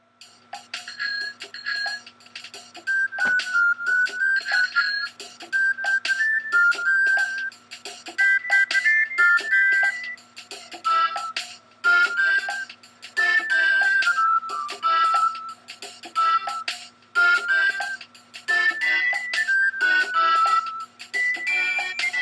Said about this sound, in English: here's the clip, or the audio from the bike theme from Earthbound